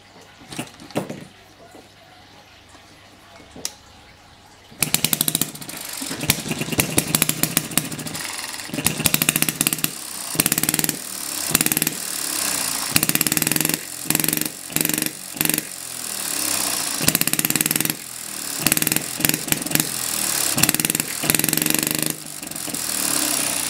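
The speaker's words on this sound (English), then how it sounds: "This is how you run the engine with the governor off." A small Chinese hit and miss engine run at full speed with the governor off, starting after a few quiet clicks, then a loud, rapid, close chugging bark that continues steadily with slight surges, no speech.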